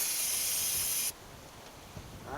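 Aerosol brake cleaner sprays in one steady, loud, close hiss for about a second during a home oil change, cutting off abruptly to a quieter background.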